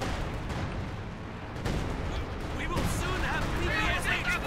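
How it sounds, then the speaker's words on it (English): Artillery fire from a field gun in the Company of Heroes 2 video game, heavy booming shots over a dense wash of battle noise, with a person talking over it. "Field gun is firing."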